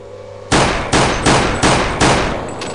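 Pistol gunfire in a Half-Life mod shooter: five loud, sharp shots in a steady rhythm, each ringing out briefly before the next, after a quiet moment of low game ambience.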